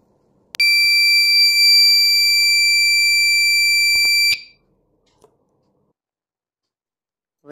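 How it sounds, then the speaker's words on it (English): A loud, steady electronic buzzer alarm with sharp high pitch, triggered when boiling milk touches a wire in a milk-boil indicator, sounds continuously for about four seconds, then cuts off abruptly into near silence. "this will send signal to the buzzer,"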